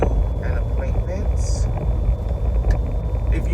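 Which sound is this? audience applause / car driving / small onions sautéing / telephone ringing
car driving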